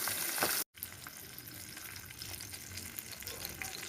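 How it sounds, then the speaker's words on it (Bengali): Bhetki fish fillets frying two at a time in hot oil, a dense steady sizzle close by that cuts out for an instant, then resumes strong and even. "আমি দুটো করে মাছ ভাজবো, যাতে ভেটকি মাছ নরম ভেঙে না যায়"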